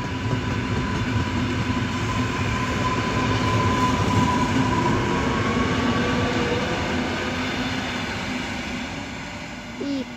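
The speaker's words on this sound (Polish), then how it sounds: "O, i odjazd pociągu R60." An R60 regional train pulls out of a station near Wołomin on the Warsaw–Tłuszcz line, a steady loud rumble of wheels and motors with tonal whine that holds throughout and fades slightly toward the end.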